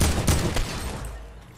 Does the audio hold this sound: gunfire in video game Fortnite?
yes